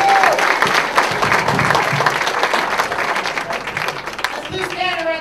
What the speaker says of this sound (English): Clap it up for comedian Loose Cannon sticking to his time